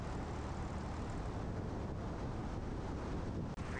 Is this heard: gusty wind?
yes